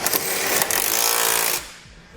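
A power tool rattles in a fast, steady hammering burst for about a second and a half, snugging down 19mm trailer hitch bolts on a 2010 Audi Q7, then stops abruptly and leaves a quiet tail.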